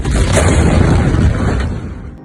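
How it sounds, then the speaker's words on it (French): A huge port explosion in Beirut booms out alone, loud and close, a single deep blast that rumbles on for about two seconds before fading. "Non mais juste regardez l'explosion"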